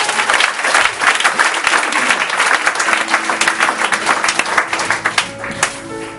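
A church congregation at a French-language worship service breaks into dense, loud applause that carries on steadily for several seconds before thinning out, with a faint tonal hum underneath toward the end.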